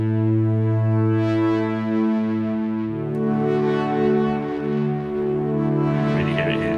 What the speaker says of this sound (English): This echo, it's just got this sort of dirty, gritty quality to it that I really like.